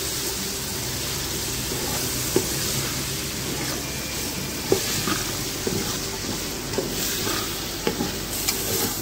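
Pre-boiled peas tipped into a sizzling pan for green rice and stirred, a steady loud frying hiss with intermittent scraping clicks of the spoon.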